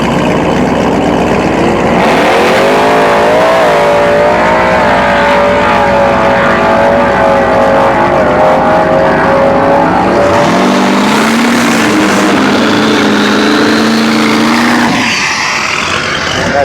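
A drag racing truck roars loudly down the strip at a race week event, engine pitch climbing through several gear changes before the sound drops away and a faint whine trails off.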